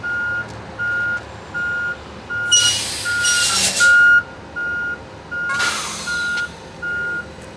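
An electric garbage truck airing up, with a steady series of evenly spaced reversing beeps and two loud hissing bursts of air, heard at close range.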